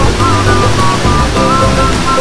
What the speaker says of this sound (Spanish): Es la cascada Guarumo.